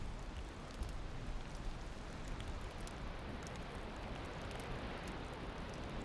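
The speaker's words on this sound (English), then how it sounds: "Oh, it's raining." Rain in the Valheim video game, a steady, soft hiss of falling drops on surfaces, faint and even throughout, with no voices.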